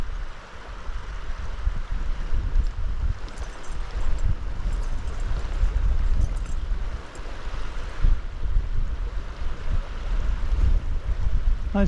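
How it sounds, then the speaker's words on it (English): Wind blowing across Dartmoor moorland, a continuous low rumbling buffet on the microphone with gusty swells and no clear pauses. "Nice gentle Dartmoor breeze now to cope with."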